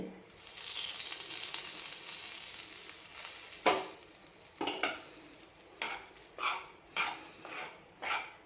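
A spoon stirs besan roasting in ghee in a pan for besan barfi, a soft sizzle giving way to a run of distinct scraping strokes that grow more rhythmic toward the end, close and fairly quiet.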